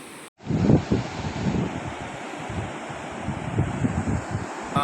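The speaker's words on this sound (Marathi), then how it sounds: "असं पुलावून पाणी चाललं आहे" Steady rushing water roars close by as a flooded river flows over a bridge, a dense continuous wash with gusts of wind buffeting the microphone.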